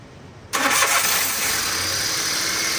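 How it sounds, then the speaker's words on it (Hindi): A car engine cranks and fires after an injector replacement for a misfire and rich fuel trim fault, catching abruptly and settling into a loud, steady run close by. "अभी गाड़ी को स्टार्ट करके देखते हैं। स्टार्ट करो।"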